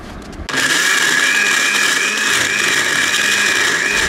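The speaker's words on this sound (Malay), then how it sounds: "terus ni nak blend." An electric blender runs at a loud, steady whir after starting abruptly, pureeing boiled onions, garlic and dried chillies with water for a squid and petai sambal. The motor drones on without a break.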